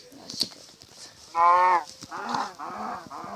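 Minecraft cows moo in short, loud synthetic lows, one clear moo followed by a couple more closely grouped, with faint game clicks around them.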